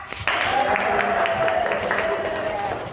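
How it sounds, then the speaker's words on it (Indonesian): A classroom of students bursts into brief, lively clapping for a classmate, starting abruptly and holding steady for a few seconds. "Tepuk tangan untuk Krisna"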